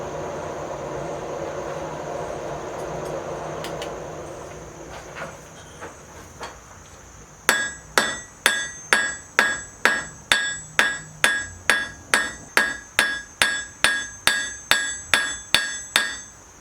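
A blacksmith hammers hot metal on an anvil to spread it out. After some quieter taps, a run of about sixteen sharp, ringing strikes lands in an even, steady rhythm close by.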